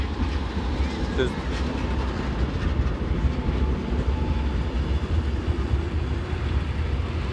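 Tashkent–Samara passenger train of Uzbekistan Railways pulling into Turkistan station, a steady broadband rumble of wheels and carriages close by throughout, with a voice talking over it.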